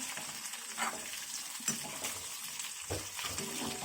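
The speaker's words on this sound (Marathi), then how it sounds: "कांदा पण जरा चांगला लाल भाजून घेऊया" Onion frying in a pan for mutton curry gives a close, continuous sizzle broken by stirring scrapes and a few clinks of the utensil against the pan.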